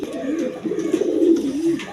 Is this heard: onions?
no